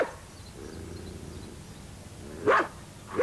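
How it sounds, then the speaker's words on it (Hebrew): Black dog as a sound effect in a children's story, two short sharp barks spaced apart over a quiet hiss, the second cut off at the end. "ומי שדווקא היה אכפת לה, הייתה כלבה שחורה שהשתוללה מאוד כשראתה את במבה"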